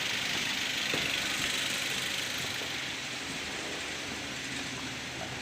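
A 2010 Toyota Avanza Type E engine idles with its air sensor removed, a steady low hum with faint knocking texture and a broad hiss above it, slightly fading toward the end with no voices.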